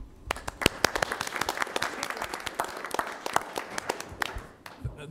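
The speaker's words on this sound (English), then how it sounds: "And Ricardo, I just want to give you a round of applause and wish you well" Attendees at a community roundtable meeting clap together in a lively round of applause, with distinct close-up hand claps popping out over the group. The clapping is moderately loud and thins out near the end.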